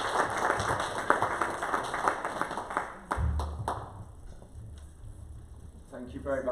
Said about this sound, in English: can we have a round of applause for Dr.